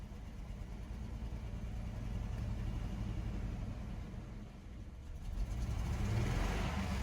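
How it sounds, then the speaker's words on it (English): An old Ford truck engine idles roughly after a Seafoam treatment, a low continuous rumble heard from close by that grows slightly louder and rougher near the end. "Alright, it's idling."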